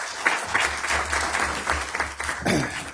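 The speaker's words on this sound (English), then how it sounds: "So give yourselves another round of applause." A room full of attendees at a county board of commissioners meeting claps in a sustained burst of applause, fairly close and continuous, swelling again near the end.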